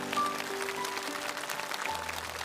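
Studio audience applauds at a Chinese TV variety show, honouring a Paralympic wheelchair fencing champion; a steady wash of clapping fills the whole stretch, with faint sustained musical tones running underneath.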